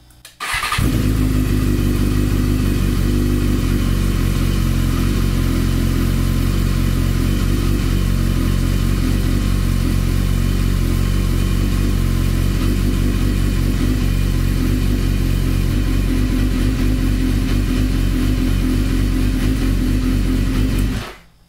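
A 2015 BMW S1000RR motorcycle with a newly fitted Hindle exhaust idles loudly and steadily close by, its deep throaty exhaust burbling continuously for about twenty seconds.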